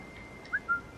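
Short two-note whistle from the player character in the video game Assassin's Creed Origins, a quick rising chirp followed by a second brief tone over quiet game ambience.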